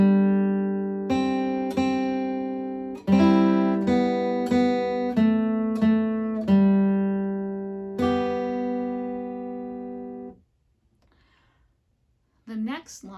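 A guitar plays the second line of the tune Good Night Ladies as a sequence of plucked notes and open strings, each ringing and decaying cleanly, followed by a short silence and a brief voice.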